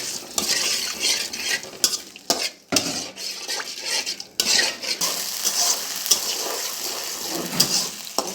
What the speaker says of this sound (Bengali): পেঁয়াজটা ভাজা হচ্ছে, এক চামচ রসুন দিলাম, মশলা কষানো হচ্ছে